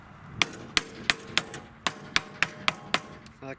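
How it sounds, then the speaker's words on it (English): A hammer strikes a wooden motor support on a Cherokee boat, about ten sharp, ringing blows in a fairly steady rhythm, close and distinct with no talking. "when I hit it with the hammer, I can tell it's snug"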